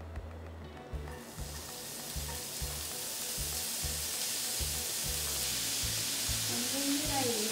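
Ingredients stir-fried for Okinawan champon, a steady loud sizzle across the whole clip with scraping stir strokes and rhythmic low knocks of a utensil against the pan.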